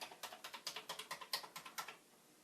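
Keys clatter on an old Commodore 64 keyboard in a quick run of about fifteen crisp, evenly spaced presses, close and clear, then stop.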